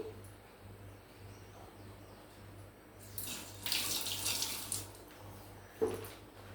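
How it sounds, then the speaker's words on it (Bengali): Hands wash under a running kitchen tap: a faint background hiss, then a louder burst of splashing water for a couple of seconds and a short final splash, with no talking. "হাতটা একটু বন্ধুরা ধুয়ে নিই।"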